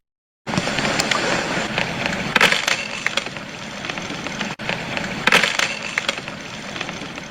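Sharp cracks and splintering snaps of ice ring out over a dense, gritty crackle, with a couple of louder breaks standing out.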